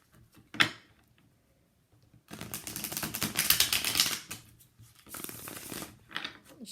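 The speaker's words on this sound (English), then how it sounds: "Shuffle one more time." A deck of cards gets riffled in a quick, crackling burst, followed by a second, shorter burst. The sound is close and quiet, and the gaps between are nearly silent.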